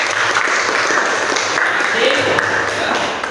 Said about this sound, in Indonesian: kita beri tepuk tangan terlebih dahulu